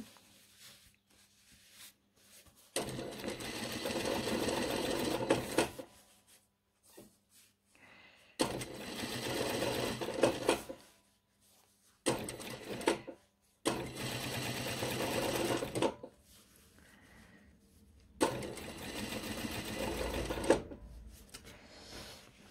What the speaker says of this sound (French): Donc là, on est parti pour la surpiqûre.